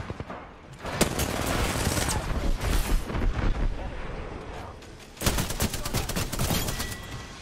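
Gunfire in the video game Apex Legends: rapid, dense bursts of automatic shots and impacts, with one burst after another and a brief lull near the middle.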